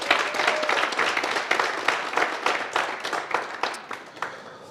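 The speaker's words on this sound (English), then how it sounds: "Can we give them a big round of applause?" An audience at a Katlehong business workshop breaks into applause: dense, loud clapping that holds steady for several seconds and then begins to thin out toward the end.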